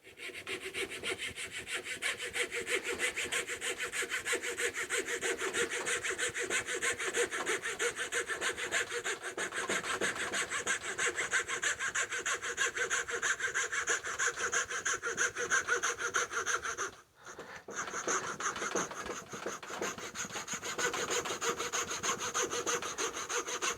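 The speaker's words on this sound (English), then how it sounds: "If you don't use a coping saw a lot, it really shows." A coping saw cuts wooden puzzle pieces in fast, steady back-and-forth strokes, close and continuous, with one brief pause before the rasping resumes.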